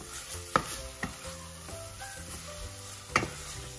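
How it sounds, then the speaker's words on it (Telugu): Freshly cooked rice is stirred into mint in a hot pan, giving a soft continuous sizzle with a few distinct scraping clinks of a spoon against the pan, quiet and close. "సో నేను ఫ్రెష్గా ఉడికించుకున్న రైస్ యాడ్ చేస్తున్నాను."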